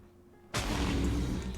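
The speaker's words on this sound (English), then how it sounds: "first up we have Heck TNT" Heck TNT exploding in a Minecraft Super TNT mod: after a quiet moment a single sudden, heavy blast erupts into a loud, sustained roaring rumble that fills the rest of the moment.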